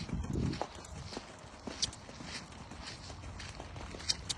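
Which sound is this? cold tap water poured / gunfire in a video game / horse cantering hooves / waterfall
horse cantering hooves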